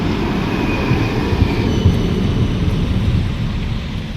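A Budapest tram rides along with a loud, steady low rumble of wheels on rails and faint high squeals, close and continuous throughout.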